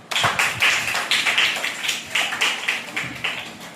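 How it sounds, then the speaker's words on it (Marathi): An audience claps together after a child tells a story, a brisk run of rhythmic, evenly spaced claps that stays fairly loud and close throughout. "टाळ्या वाजवा सगळ्यांनी."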